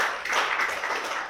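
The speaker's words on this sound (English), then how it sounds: "Please clap for our Jerry." A school class claps for a classmate named Jerry, a dense, steady patter of many hands that fills the room for over a second without a break.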